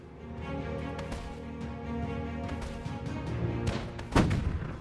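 Video game tank battle: the MAUS heavy tank's cannon fires on a French FCM-F1 heavy tank amid a steady rumble, with several sharp shot cracks and one heavier boom near the end.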